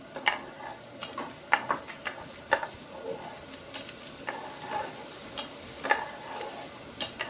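Chopped onions and a generous amount of garlic sweat in a pot for Bahamian peas and rice, giving a soft, steady sizzle with scattered sharp clicks and scrapes of stirring, no talk.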